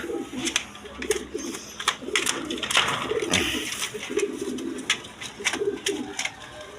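Good-breed breeding pigeons kept in small cages give repeated low throaty coos close by, a steady rhythm of rolling calls with clicks and rustling around them.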